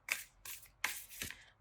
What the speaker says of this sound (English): I'll continue shuffling